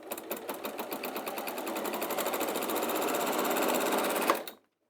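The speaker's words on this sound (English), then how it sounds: "I'm sewing really close to the edge on this one just to hold the pockets in place." A sewing machine stitches close to the edge of bag pockets, its rapid needle clatter speeding up into a steady, close run before stopping abruptly.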